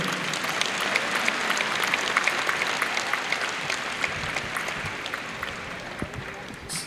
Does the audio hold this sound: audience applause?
yes